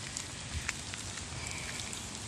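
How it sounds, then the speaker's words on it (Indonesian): A constant, dense hiss of heavy rain falling, with scattered crackling drops throughout and no voices. "Jom kita lari dalam. Hujan lebat."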